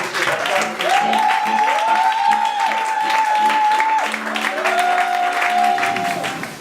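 A church congregation cheers and applauds to acclaim Jesus Christ, loud and sustained, while a voice sings or calls out in long held tones over the clapping.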